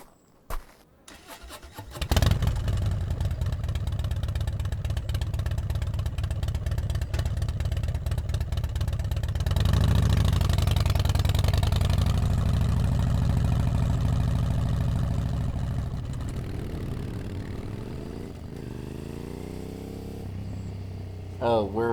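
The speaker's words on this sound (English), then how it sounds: "Hop on my motorcycle." A motorcycle engine starting up, then idling with a steady low rumble and rising into revs, loud and close, running for most of the stretch before fading near the end.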